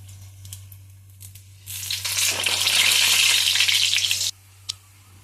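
Mughlai paratha stuffed with a mixed non-veg filling frying in oil on a stovetop, a loud broad sizzle swelling up partway through and holding steady for a few seconds before cutting off, over a steady low electrical hum, with no talking.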